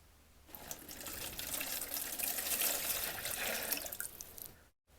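Clean water pours into a basin to soak wilted orchids, a steady splashing stream that swells for a few seconds and then cuts off abruptly near the end.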